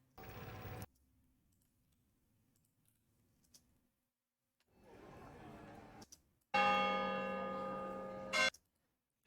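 Church bells for a film scene's sound edit ring out in a bright sustained burst near the end, preceded by a short bell strike at the start and quiet rustling gaps between.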